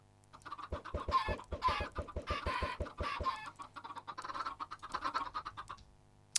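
Chickens in the Minecraft video game cluck in a quick, steady run of short repeated calls, then a busier cluster of overlapping clucks, fairly close and without any talk.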